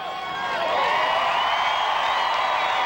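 Monster truck show crowd in Monroe cheering and roaring, a loud, sustained wash of distant voices and whoops that swells and holds throughout.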